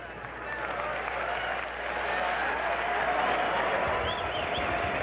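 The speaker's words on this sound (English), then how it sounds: "the crowd seems to have enjoyed it" A boxing arena crowd at a women's pro fight cheers and roars in a steady, wide wash of noise that swells slightly and holds throughout, with faint voices mixed in.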